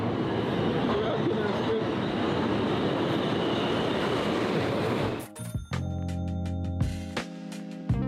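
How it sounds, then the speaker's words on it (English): A subway train pulls into a station: a loud, continuous rumble of wheels and cars fills the first five seconds, then gives way to squeals, clanks and ringing tones as it slows. "The train is coming."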